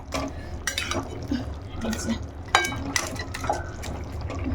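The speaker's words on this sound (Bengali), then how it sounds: "মাছের মাথাটা, তো এটাও আমি ঢেলে দিই। তো এটা ঢেলে দিয়ে আবার একটু নাড়িয়ে চাড়িয়ে" Fried fish head is tipped into a pot of mixed vegetables and stirred, giving a wet slosh, scraping and clinks of a utensil against the pot, with a sharper knock partway through.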